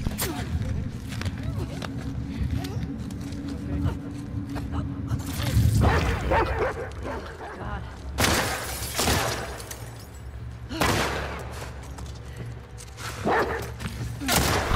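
A dog barks repeatedly in bursts during a hostile combat encounter in The Last of Us Part 2, over footsteps and game noise, with talk and ambient sound around it.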